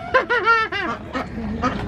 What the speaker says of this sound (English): Duck feeding time.